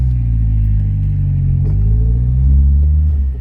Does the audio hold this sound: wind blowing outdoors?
no